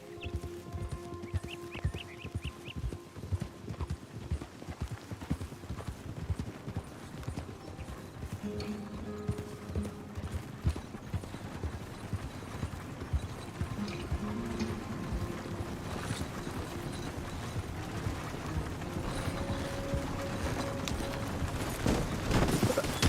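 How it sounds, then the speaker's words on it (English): Horse hooves clip-clop steadily along a dirt road through a forest in Red Dead Redemption 2, a moderately loud, even trotting rhythm over soft ambient game music and wind. "Riding through the forest on a dirt road again."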